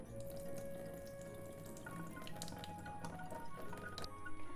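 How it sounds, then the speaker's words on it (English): Rice being rinsed in water, with running tap water and liquid sloshing as the grains are stirred, a steady close wash with occasional drips. "I'm going to prepare the rice first, so let's rinse it."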